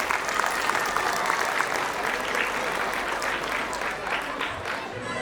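An audience at a school annual function claps in sustained, dense applause from many hands, holding an even level for several seconds.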